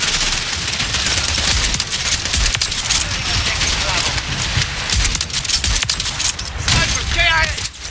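Shotgun fire from the video game Modern Warfare 3, dense and continuous through a loud, busy game mix with repeated blasts layered over other effects.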